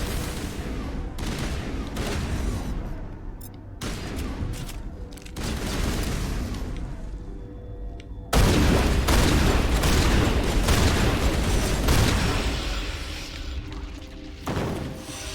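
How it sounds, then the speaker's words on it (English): Heavy bursts of rifle fire loaded with cryo rounds rip through a Mass Effect firefight. The shots are loud and close, coming in dense volleys broken by short lulls, with thuds and a surge of louder fire in the second half. "First time using cryo rounds."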